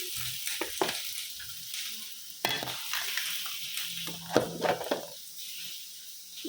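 Onion and tomato fry in a pan, giving a steady moderate sizzle broken by scraping stirring strokes and a few sharper crackles, with no voices over it.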